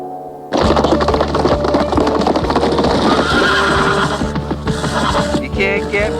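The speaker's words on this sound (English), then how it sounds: "This is the orneriest horse in Polecat Flats." A horse whinnies loudly over the clatter of hooves, with close, busy clip-clop and wooden knocking in a cartoon Western town, and a voice heard briefly in the mix.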